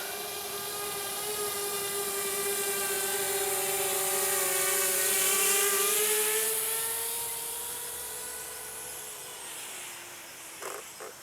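A VTOL X450 drone on its maiden flight gives off a steady high-pitched rotor whine that swells as it draws nearer, peaks, then fades away with a slight pitch drop, heard alone.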